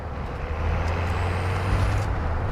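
Air brakes on a truck in the video game DMZ give a loud, sustained hiss and low engine rumble, steady and close throughout with no talk.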